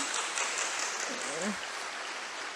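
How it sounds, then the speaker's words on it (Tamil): Steady applause from a crowd for a mother on stage, a dense hiss of clapping throughout, with a voice briefly audible in the middle. "சுமதி மேடமுக்கு ஒரு பெரிய கைத்தட்டல் கொடுங்க"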